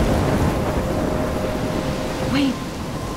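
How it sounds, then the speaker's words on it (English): Steady storm wash of rain and wind in the video game Life is Strange, a continuous broadband roar with a brief tonal swoop near the end, no distinct thunder crack standing out. "I'm trapped in a storm?"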